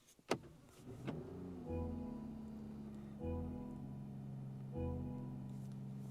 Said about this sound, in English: Let's begin by firing it up.